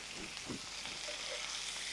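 Half a kilo of washed chicken frying in a pan with browned onions for ulavacharu chicken, a brief close sizzle with a few soft stirring scrapes and no voices.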